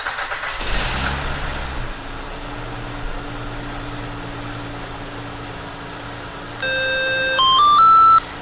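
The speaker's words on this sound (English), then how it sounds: "We can start the vehicle." A 2006-2014 Honda Ridgeline engine cranks and fires up by remote start, then settles into a steady idle, with a series of electronic beeps and tones from the remote near the end.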